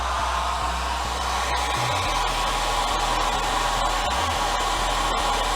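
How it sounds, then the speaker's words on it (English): A hairdryer heats a glued plastic model kit part, blowing a loud, continuous, unbroken roar that stays close and steady from start to finish. "take your hairdryer again."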